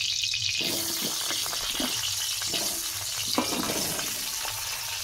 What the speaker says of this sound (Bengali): এবার আমি আলুগুলো ওই তেলে একই তেলেই ভেজে নেব। আলুগুলো দিয়ে দিচ্ছি।